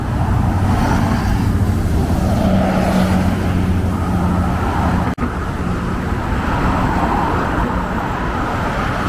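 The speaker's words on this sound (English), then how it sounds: "The traffic is so loud here, and the traffic is so heavy here." Heavy road traffic along the Batu Maung coast in Penang, a loud continuous roar of passing vehicles with engine drone, briefly dipping in the middle before resuming.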